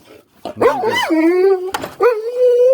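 A dog gives loud, close whining yelps and drawn-out howling barks, a couple of rising cries in quick succession.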